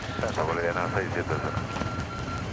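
Inside the cockpit of an airliner at a high altitude airport during takeoff, a steady engine roar fills the background while crew voices talk over it.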